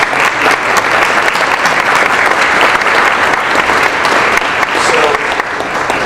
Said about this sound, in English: A round of applause for these folks.